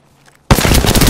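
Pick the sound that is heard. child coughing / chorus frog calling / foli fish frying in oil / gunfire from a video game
gunfire from a video game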